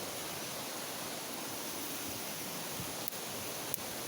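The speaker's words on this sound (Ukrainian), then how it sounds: "Ось сам водоспад." The Kamianka waterfall, seen from a hilltop above, sends up a faint, steady rushing hiss of falling water, heard from a distance. Two brief clicks break the otherwise even wash.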